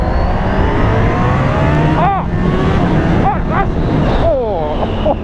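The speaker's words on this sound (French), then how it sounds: "le compresseur complètement insane que vous entendez gueuler en dessous là" Kawasaki H2 SX SE supercharged motorcycle accelerating under a constant loud engine roar, the supercharger whining and swooping in rising and falling sweeps as the rider shifts and pulls, with a voice talking over it.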